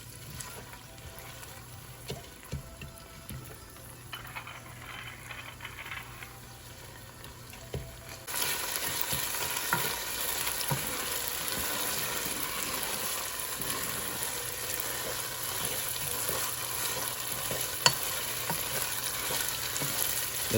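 Sweet rice cooking in a pot, with a steady soft sizzle and bubbling that grows noticeably louder partway through, and faint stirring scrapes now and then.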